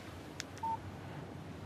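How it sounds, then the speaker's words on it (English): Phone text message alert in the Alan Wake video game, a short electronic beep over a faint steady hum, brief and clean with no talk. "Text message from Barry."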